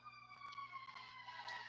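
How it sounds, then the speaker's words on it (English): A fire truck siren wails faintly in the distance, its steady rising-and-falling tone carrying from a fire station down the street against a low hum. "fire truck, ambulance, all kinds of stuff run back and up down the street."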